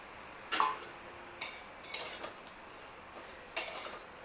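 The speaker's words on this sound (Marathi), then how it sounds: "आता हे आपण तुपावर खमंग भाजणार आहोत." Vermicelli roasts in ghee in a kadhai, heard as a few separate scraping, clinking stirs of a spoon against the pan, close but quiet, with faint sizzle between them and no speech.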